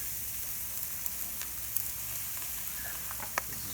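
New York strip steaks of Pennsylvania beef frying in a pan, giving a steady soft sizzle with scattered small pops and crackles throughout.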